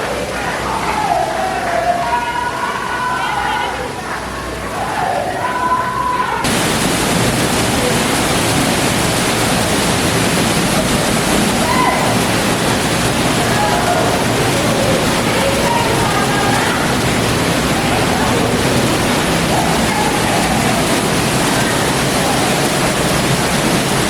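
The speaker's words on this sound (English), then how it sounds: "it's a wild experience to be at Awhum Waterfalls" Steady roar of Awhum Waterfalls in Enugu, Nigeria, loud and close, a continuous broadband rush of falling water that swells to full strength after the first few seconds, with faint voices underneath at the start.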